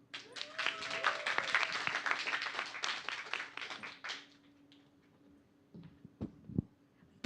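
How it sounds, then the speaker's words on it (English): Audience applause at a Toastmasters meeting: a few minutes of many hands clapping, fairly close, for about four seconds, then quiet with a few scattered knocks and a brief sharp burst at the end. "Please give a big round of applause for Toastmaster Hanif."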